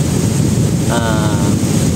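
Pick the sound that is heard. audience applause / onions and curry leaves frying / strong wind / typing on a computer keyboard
strong wind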